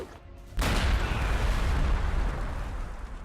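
Ork tank busters' grenade attack in Warhammer 40,000: Gladius, a sudden loud blast followed by a sustained low rumbling roar of explosion and debris.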